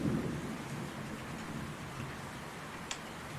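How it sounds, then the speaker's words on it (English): Rain and thunder in the game Anchorhead: steady, hissing rainfall throughout, a low thunder rumble at the start and a single sharp tick near the end. "The rain slackens off momentarily to a weak drizzle, and returns a fresh and a brief freezing downpour."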